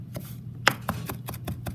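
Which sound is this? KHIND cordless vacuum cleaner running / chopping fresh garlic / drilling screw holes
chopping fresh garlic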